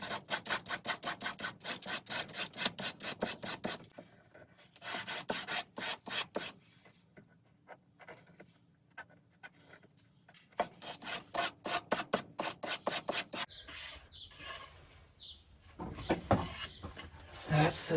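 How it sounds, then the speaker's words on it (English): Rapid rhythmic scraping of hand sanding along a wooden shelf edge comes in bursts of quick strokes separated by pauses, close and clear, with a person speaking between bursts. "I'm just going to sand that one"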